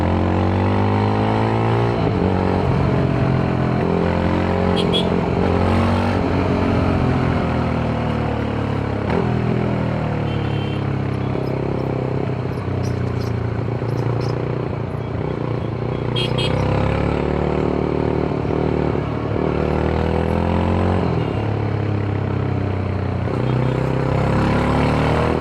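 Yezdi Scrambler 350 motorcycle ridden through city traffic, its engine a steady continuous drone with shifting tones as the rider changes speed, loud and close throughout.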